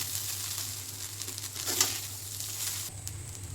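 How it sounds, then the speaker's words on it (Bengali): Fried rice with sugar added sizzles and crackles steadily in a hot pan, with brief stirring scrapes, close and continuous, and no talking. "দিয়ে একসঙ্গে আমি সব ভেজে নিচ্ছি।"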